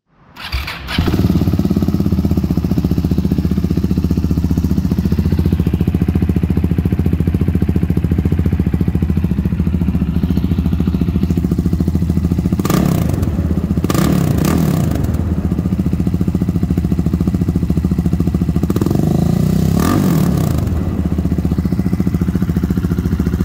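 A 2017 KTM 690 Duke single-cylinder motorcycle engine catches and settles into a loud, steady, close idle with a lumpy thump, then revs up briefly twice, dropping back to idle each time.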